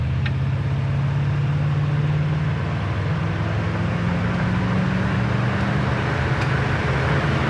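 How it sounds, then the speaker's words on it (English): A 1968 Buick Riviera's engine idles steadily at a stop sign, a low continuous rumble with a broad hum running unbroken throughout, fairly loud and close, with no talking over it. "Idle's nice at the stop sign"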